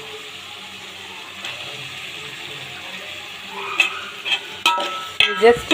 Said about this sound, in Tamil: கொஞ்சம் லைட்டாக ஆயிலில் வந்து வதக்கட்டும்